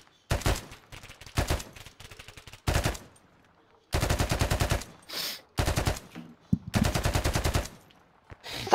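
Machine gun fire in the ArmA 3 military shooter game, delivered in repeated long and short bursts separated by brief pauses, loud and close.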